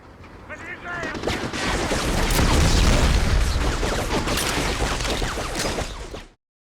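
Explosions at a steel plant in a video game swell into a dense, roaring wall of blasts and crackling debris that lasts several seconds before cutting off abruptly.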